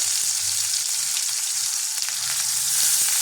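Bhola fish pieces fry in hot oil in a pan, a steady close hiss of sizzling with occasional small pops, continuous and loud with no talking.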